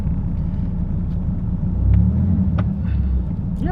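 A Dodge Viper with a manual transmission idles with a deep, continuous engine rumble, swelling briefly as the revs rise slightly, then settling back to a steady low drone.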